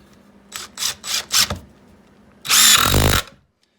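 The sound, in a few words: DeWalt 20V Max brushed drill driving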